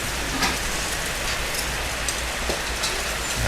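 Steady rain falling near a roadside fried-rice stall, a loud, even hiss of drops on surfaces that runs unbroken throughout, with no talking.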